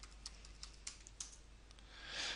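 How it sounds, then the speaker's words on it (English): A computer keyboard clicks out a short command in AutoCAD 2012, a quick irregular run of light, quiet keystrokes, then a soft rushing swell at the end. "I'm going to enter limits directly from the keyboard."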